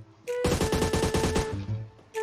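In PUBG Mobile, a rapid burst of automatic gunfire rattles off about ten quick, evenly spaced shots over roughly a second, with steady tonal game sounds underneath.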